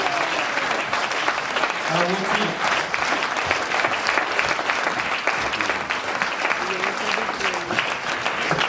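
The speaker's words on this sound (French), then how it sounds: "On peut l'applaudir." A concert audience at a final concert in Bagnères-de-Luchon applauds with dense, continuous clapping, while people speak over it near the microphone.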